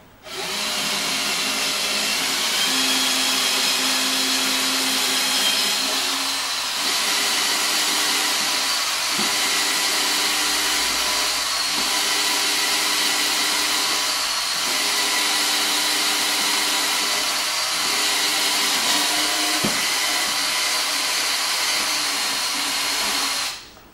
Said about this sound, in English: we're just going to drill straight through to make an 8mm hole.